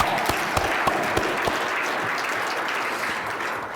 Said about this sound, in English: please, a round of applause in her honor